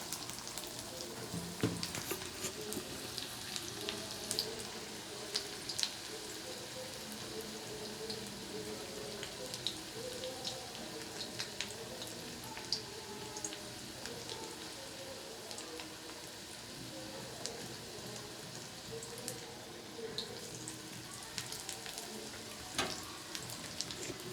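Drumstick flower fritters (sajne phool bora) sizzle steadily in hot oil over a lowered gas flame, a dense continuous crackle with scattered sharp pops, close and fairly faint, with no talk.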